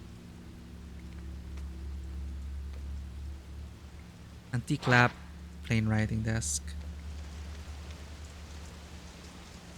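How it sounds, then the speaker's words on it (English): Faint rain patters on a window in the horror game Fatal Frame: Maiden of Black Water, a steady soft hiss under a low hum, while a voice speaks briefly in the middle. "Sound of raindrops in the window echoes faintly."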